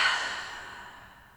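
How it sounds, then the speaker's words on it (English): A single deep, breathy exhale through the mouth during a morning yoga session, close and soft, fading out over about a second. "Nice deep inhale in and exhale through the mouth."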